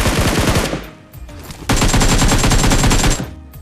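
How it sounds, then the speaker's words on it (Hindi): Rapid automatic AKM rifle fire in the mobile game PUBG Mobile, two loud sustained bursts of rattling shots separated by a short pause, close and dominant with no talking. "इससे मैं इतनी AKM की गोलियां मारता हूँ"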